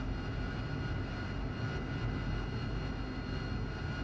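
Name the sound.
aircraft engine taxiing to runway in flight simulator game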